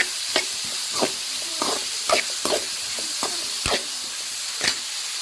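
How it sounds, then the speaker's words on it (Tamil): Onions sauté in oil in a kadai with a continuous sizzle, broken by about a dozen sharp spatula scrapes and knocks at an irregular, unhurried pace, close and fairly loud. "வெங்காயம் நல்லா பொன்னிறமாக வதங்கிடுச்சு"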